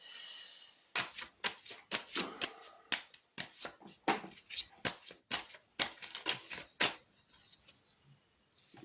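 A deck of cards is cut and shuffled in a string of crisp, rapid riffling bursts and sharp snaps, close and fairly loud, with a few brief pauses between flurries.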